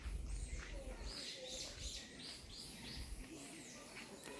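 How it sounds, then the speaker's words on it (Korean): Faint birds chirp and sing intermittently along a forest walking trail, distant and quiet against soft background hiss. "새소리,"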